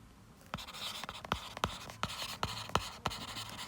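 Pen strokes scratch across paper in a quiet room, a series of short, distinct scribbles and taps coming in an irregular rhythm, close and faint, with no talking.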